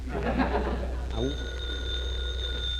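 A telephone bell rings in a home, a sustained bright metallic tone that follows a voice and continues alone beneath a low background hum.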